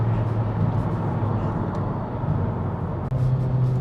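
A Honda Civic Type R GT FK2 with its 306 bhp VTEC turbo engine cruises in normal mode on a bumpy road, a steady low road and engine drone heard from inside the cabin, with one brief dip near the end.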